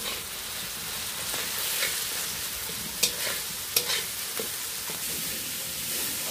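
Ginger paste, and garlic, fry and get stirred in a pan while cooking Bengali aloo dum, a steady close sizzle with occasional scraping taps of the spoon against the pan.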